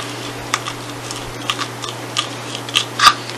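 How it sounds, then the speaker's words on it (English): Scissors poke holes through cups for a Mrs. Claus craft, giving a series of small sharp clicks and snips that grow louder toward the end, with no talking. "we're doing is just poking the scissors down through to make it so that the hole is big enough to fit the light"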